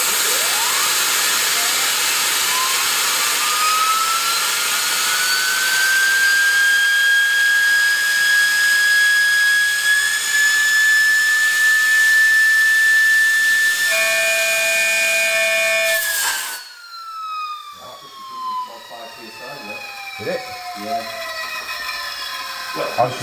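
A supersonic two-stage Tesla turbine whines loudly with a rising tone as its rotor rubs, then a brief resonant tone before it cuts off and spins down with a falling whine.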